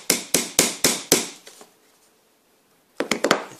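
Small nail being hammered into wood for a sliding lid box, gripped with long nose pliers: five or six sharp, evenly spaced taps, then a couple of softer ones, a short pause, and a quick cluster of lighter taps.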